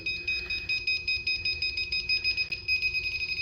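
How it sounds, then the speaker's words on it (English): A KAIWEETS cable tracer emits a rapid, steady train of high electronic beeps on the correct cable, a fast pulsing tone that runs continuously with a low hum beneath. "when you find the correct cable, the faster the beep and the faster the LED light will flash red"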